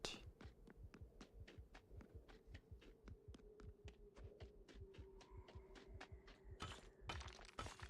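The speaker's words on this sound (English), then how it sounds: "I swear this heartbeat sound is just too good." Heartbeat sound effect from the game Factorio, a steady throbbing pulse of regular low thumps over a faint hum, with a few sharper clicks near the end.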